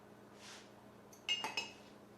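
Utensil clinking against a bowl while almond flour is mixed with melted butter and stevia, a couple of short, faint metallic chinks after a soft brush, quiet and close with no talking.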